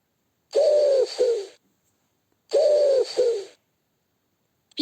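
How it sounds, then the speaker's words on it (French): A pigeon coos twice, each a close, clear call of two throaty pulses, separated by a pause of silence. "Pigeon,"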